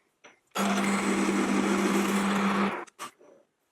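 Power drill boring an 8mm hole through metal for a spring winder, one loud continuous whine lasting about two seconds, then it stops, followed by a couple of short clunks.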